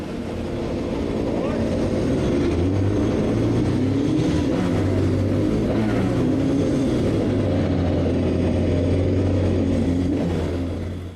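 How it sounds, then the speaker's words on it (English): Kevin Schwantz's 500cc Grand Prix motorcycle rolling out of pit lane, a loud continuous engine drone with rising and falling pitch as it pulls away, close and dominant throughout. "swung a leg over Schwantz's 500 and rolled out of pit lane"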